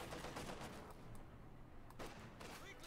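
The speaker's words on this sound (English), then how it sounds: "Getting some good damage from machine guns" Machine gun fire rattles in the Company of Heroes 2 strategy game, a dense, continuous barrage of distant shots mixed with explosions and battlefield noise, with no pauses.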